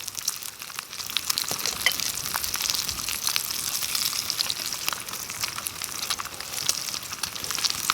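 Bacon frying in a pan gives a dense, continuous close-up sizzle, crackling and popping steadily throughout with no talking.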